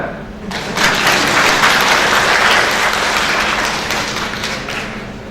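An audience at a security conference breaks into loud applause after a brief quieter lead-in, dense sustained clapping that gradually eases off toward the end.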